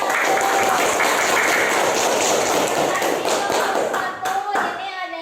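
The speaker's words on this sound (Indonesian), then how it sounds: "Beri tepuk tangan untuk kelompok" Classroom applause for a student group after their presentation, loud sustained clapping that thins out near the end, with a few thumps and taps mixed in.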